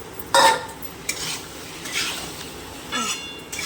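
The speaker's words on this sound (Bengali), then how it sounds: "এবার আমি ভাজিয়ে রেখেছি সবজিগুলো আমি দিয়ে দেবো" Fried vegetables go into a spice mixture in a pan, with a few sharp clinks of utensil on metal and brief scraping stirs over a soft sizzle.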